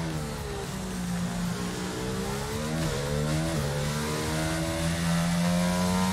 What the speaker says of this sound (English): Deep engine noise